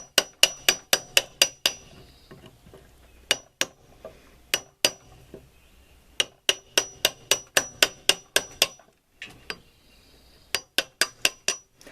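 Mallet or hammer strikes drive a chisel through wood fibre on a heavy timber notch, heard as rapid sharp knocks in bursts of several blows separated by short pauses, close and loud, with no talking.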